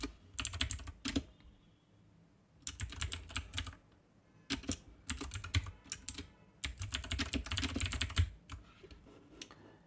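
Fingers type on a computer keyboard in quick bursts of clicking keystrokes broken by short pauses, close and quiet, with no talking.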